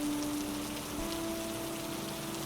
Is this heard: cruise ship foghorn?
no